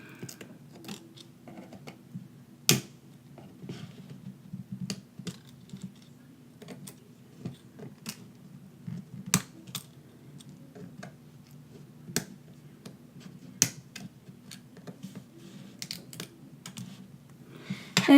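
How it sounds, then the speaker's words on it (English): A plastic opening tool prying up the connectors inside an iPhone 6, giving a string of small, sharp clicks and ticks at an irregular pace over a low steady hum, with no talking. "Next, you want to get your plastic opening tool and just pry these up."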